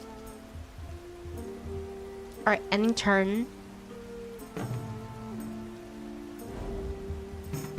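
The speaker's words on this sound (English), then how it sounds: "Now it's raining." Rain in the tabletop-style game For the King, a soft steady patter running beneath layered game music and effects while a person briefly talks over it.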